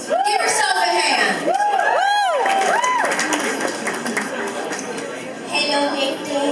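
A wedding show audience cheers, whoops and applauds loudly through the whole stretch, with shrill voices rising above sustained clapping.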